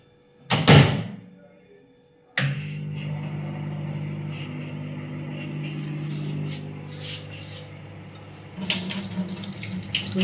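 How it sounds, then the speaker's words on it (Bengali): Cold tap water runs into a sink in a steady, close stream after a short knock and pause, continuing for several seconds with a louder splash near the end. "কলের জলটা ভালোই, কলের জল ঠান্ডা"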